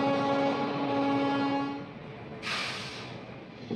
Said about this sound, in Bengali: দেখো এদিক থেকে একটা ট্রেন চলে আসলো